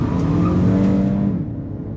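A Volkswagen Jetta built for quarter-mile racing roars through a burnout, its loud, steady engine drone holding strong before easing off slightly near the end, with no voices over it.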